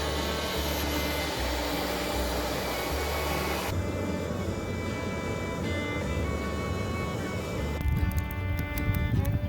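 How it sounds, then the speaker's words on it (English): A small air-mattress pump blows air steadily into a fire barrel, a continuous close whirring rush that holds for the whole stretch, its tone shifting partway through and picking up some rattle near the end. "I also have this just little air pump that we had from an air mattress when we first moved here"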